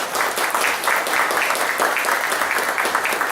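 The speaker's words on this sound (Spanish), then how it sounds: "Por lo tanto, recibámoslo con un fuerte aplauso" An audience at an evening ceremony applauding to welcome the Cuban ambassador, brisk continuous clapping from a roomful of people, fairly close and full, unbroken for the few seconds it lasts.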